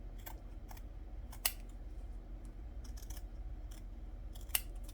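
Scissors trimming paper laid on wood make a run of quiet, close snips with a couple of sharper cuts standing out over a low steady hum. No one talks.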